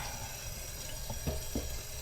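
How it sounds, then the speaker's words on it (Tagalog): Tap water runs hard into a tumbler, a steady rushing hiss with a couple of brief splashy bursts near the end, heard alone at close range. "Lakas ng tubig."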